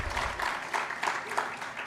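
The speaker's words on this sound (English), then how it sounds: "Can I get a round of applause?" Brief applause from a conference audience for a sponsor, a short burst of scattered clapping heard from a moderate distance.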